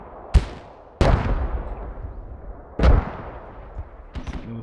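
Grenade blasts and gunfire in a competitive multiplayer shooter match, with several sharp, loud bursts spaced a second or two apart, each trailing off into a rumbling echo, followed by a smaller crack near the end.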